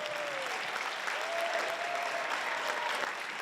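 Audience at a school teacher-of-the-year awards ceremony cheers and applauds steadily for an elementary school, a dense continuous wash of clapping throughout.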